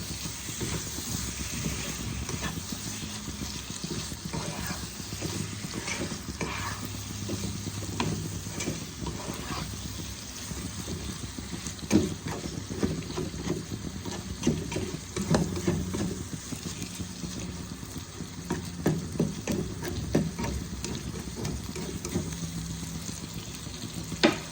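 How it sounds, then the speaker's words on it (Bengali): Chicken keema sautéed and stirred in a pan, a steady soft sizzle with spatula scraping and patter throughout, moderately close and continuous with no talk. "একসাথে ভালো করে কষাবো।"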